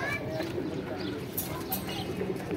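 Pigeons kept as paired birds coo softly and repeatedly in the background, faint under someone speaking nearby.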